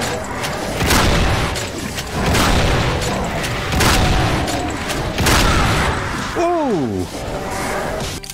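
Double-barrel shotgun blasts from the video game Doom, heavy booms recurring roughly every second or two alongside other game noise and a voice.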